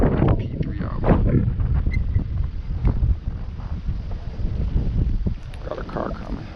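Strong gusts buffet an outdoor microphone while a DJI Phantom 3 Standard drone flies in high winds, a loud low rumble that swells and eases throughout, with a voice briefly speaking.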